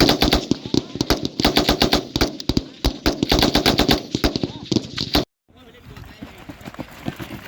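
Rapid bursts of Thai army gunfire at a military demonstration in Kanchanaburi, loud and close, with dense repeated shots for about five seconds before cutting to a quieter, distant rumble.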